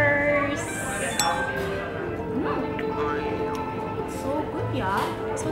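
Glasses clink together in a toast over premium liquor at a Bali bar, a couple of bright chimes ringing close while people chatter throughout.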